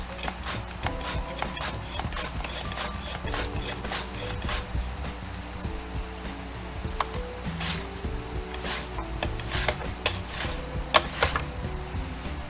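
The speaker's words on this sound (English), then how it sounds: "Make sure you use the little contraption here to hold your potatoes, because you don't want to mess up your fingers. Nice slices." Thin potato slices cut on a mandoline-style slicer with a hand guard, a continuous rhythmic rasping and scraping with repeated short strokes, close and moderately loud.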